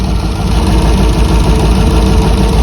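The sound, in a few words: 1979 Heavy Half truck engine running without boom tubes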